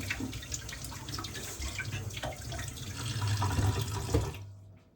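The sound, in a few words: lukewarm water wetting fingers for rolling sushi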